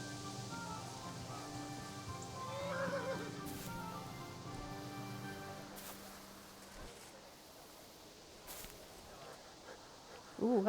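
Horses in the video game Kingdom Come: Deliverance neigh and whinny a few times over a soft ambient backdrop, moderately close, with a brief clip-clop.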